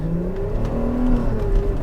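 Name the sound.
Porsche Cayenne Gen 1 engine revving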